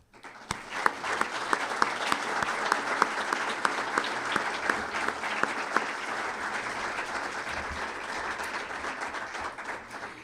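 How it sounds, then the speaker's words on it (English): A gala audience applauds warmly and steadily, many hands clapping at once, holding at an even level before gradually tapering off toward the end. "Let's give another warm round of applause to our honored guests."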